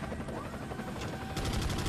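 Helicopter rotor thumping in Resident Evil 4, layered with bursts of gunfire, steady and fairly loud throughout.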